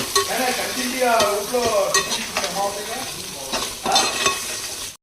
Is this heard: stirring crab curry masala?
yes